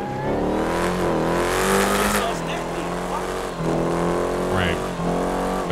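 A Jeep Trackhawk truck drag racing in GTA 5 roars loudly as its engine revs and climbs through gears, with pitch sweeping up and dropping at shifts, a brief tire squeal, and a voice talking over it.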